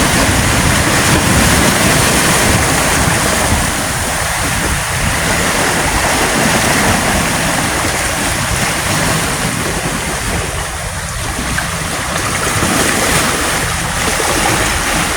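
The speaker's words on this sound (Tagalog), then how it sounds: "Kita natin yung dagat," Rough sea churning near a bridge construction site off Samal Island, Davao, a loud continuous roar of surf and water mixed with heavy wind buffeting the microphone throughout.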